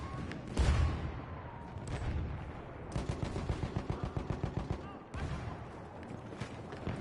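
Video game gunfire crackles in rapid automatic bursts, a loud blast early and then a steady run of evenly spaced shots, all under constant chatter from a player's voice.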